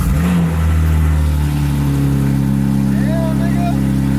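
A tuned BMW M3 fitted with a downpipe revs loudly nearby, its deep droning engine note rising and holding steady for several seconds while a person talks over it.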